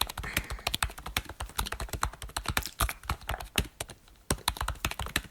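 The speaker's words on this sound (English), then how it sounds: "let me type it in" Steady typing on a computer keyboard, close and crisp, with irregular bursts of clicky keystrokes and a brief pause near the end, no talking.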